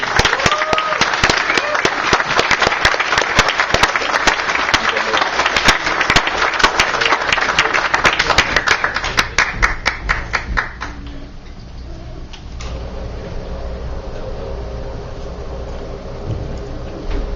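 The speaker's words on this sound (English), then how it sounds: "Let's all give him a round of applause and welcome him" An audience at an atheist gathering claps steadily and loudly for an arriving speaker for about ten seconds, then the clapping thins out and fades under room noise.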